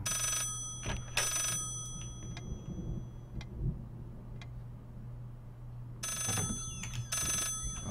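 A telephone rings in the horror video game Layers of Fear, two bursts of ringing a few seconds apart over a low ambient hum, heard alone with no talking.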